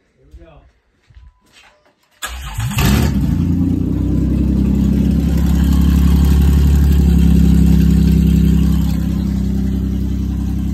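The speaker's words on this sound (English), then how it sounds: "No exhaust on the minivan." A minivan engine with an open header and no exhaust, first starting up after brief voices, then roaring loud and steady with deep rumbling revs that build and hold before easing slightly.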